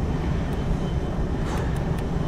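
A fixed-wing aircraft's engine roars steadily in flight, a loud, continuous broadband drone with no talk over it.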